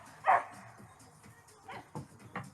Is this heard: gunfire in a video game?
no